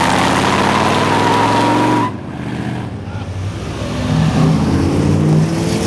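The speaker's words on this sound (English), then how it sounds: "Cuda 340 with side exhaust." A Plymouth Cuda 340 with side exhaust revs loudly up close at a muscle car show, a rough throaty rise that cuts out abruptly, then idles lower and builds again.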